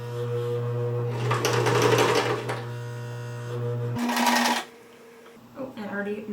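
A home sewing machine stitches sparkly sequin fabric for mouse ears, a steady close motor whir running about four seconds before stopping, followed by rustling and a voice.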